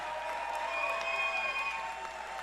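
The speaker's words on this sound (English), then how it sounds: "Let's give both of these fighters a big round of applause." A crowd at a Shamrock FC mixed martial arts event in Kansas City applauds the fighters, a steady wash of distant clapping and cheering in an arena.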